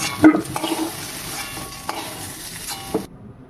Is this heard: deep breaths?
no